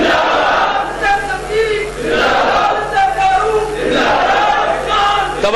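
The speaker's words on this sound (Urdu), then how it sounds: "تم نعرے مت لگاؤ، تم نعرے مت لگاؤ، مجھے بات کرنے دو" A large religious gathering's crowd chants and shouts slogans together in loud, sustained waves that rise and fall, with voices filling the space across the whole stretch.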